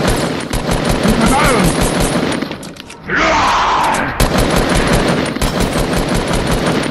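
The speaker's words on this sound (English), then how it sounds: "Lay down cover fire, please!" Gunfire in the video game Fortnite rattles in loud rapid bursts of automatic shots, with a brief pause and a shattering impact in the middle before the firing resumes, voices mixed underneath.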